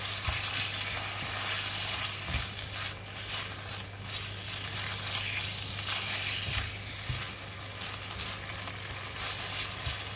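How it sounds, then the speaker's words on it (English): Pork frying in a hot pan for a bitter gourd and black bean stir fry gives a loud, steady sizzle up close, with occasional low thumps of the pan or spatula and no speech. "Now I'm putting in the meat. We're going to cook the meat first."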